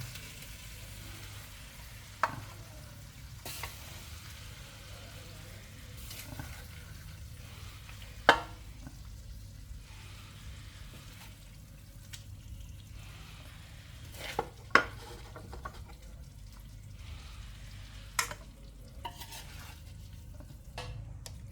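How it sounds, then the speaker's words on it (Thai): Catfish and bitter gourd curry is ladled out of a pot after the gas is turned off, giving a few sparse, soft clinks and scrapes of the ladle against the pot over a quiet kitchen background. "เราก็ตักแกงเอาขึ้นนะคะ"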